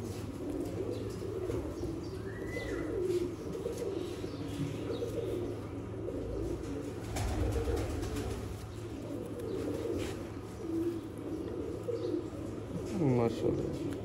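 Sialkoti 35-type breeder pigeons coo softly and repeatedly, close by, over steady low background noise with some brief chirps and faint voices.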